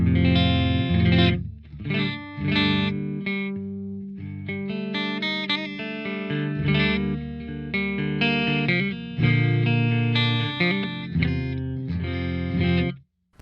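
An electric guitar plays loud, heavily distorted chords and riffs through a Mesa Mark VII tube amp, with a thick, saturated tone and short pauses between phrases.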